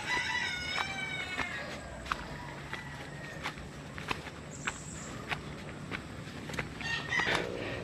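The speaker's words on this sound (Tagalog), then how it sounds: "Daming manok eh." Chickens and a rooster are heard outdoors during a casual walk: faint, scattered clucks and crowing against a noisy background of footsteps and ambient sound.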